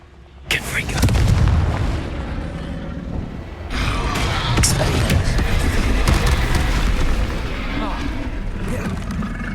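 Loud explosive blasts from a Confringo fire spell in the Hogwarts Legacy game, a heavy boom near the start and another around the middle, over a continuous roaring combat rumble with a voice sounding in the mix.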